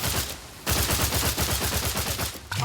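Rapid automatic gunfire from The Outer Worlds 2 video game: a short burst, a brief pause, then a long sustained stream of rattling shots with a final shot at the end, loud and close.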